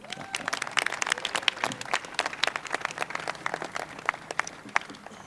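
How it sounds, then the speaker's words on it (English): Sparse, scattered clapping from a modest crowd at an electric vehicle fleet announcement in Denver, individual sharp claps irregularly spaced and not building into a dense roar. "huge round of applause for everyone for making that happen today"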